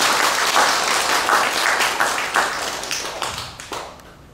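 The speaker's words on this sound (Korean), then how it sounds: "박수 한번 치세요" Audience clapping at a Buddhist sermon, a loud burst of many hands applauding together that swells, then gradually thins and fades out over a few seconds.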